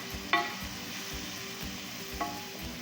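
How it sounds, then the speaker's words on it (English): Garlic frying in a pan hisses with a steady sizzle as a spoon stirs it, with two sharp scrapes or clinks against the pan and a rhythmic shuffling underneath. "let me give it a stir"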